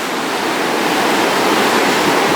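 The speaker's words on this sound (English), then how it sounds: "this is Hillsborough Bay, where it doesn't usually get waves like this" Storm-driven waves churn on Hillsborough Bay during Hurricane Dorian, a loud, dense, unbroken roar of surf mixed with wind rush and no voices.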